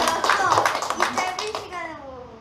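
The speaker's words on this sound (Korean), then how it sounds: "우리 큰 박수를 다시 한번 부탁드리겠습니다" Applause from a church congregation during a Korean service, a burst of dense clapping that thins out and fades after about a second and a half, with voices mixed in.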